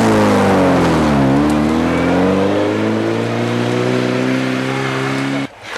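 A 2-litre rally car engine runs on Turkish petrol with retarded ignition and is pinking. It makes a loud, close, continuous drone with a brief dip in pitch before cutting off abruptly near the end.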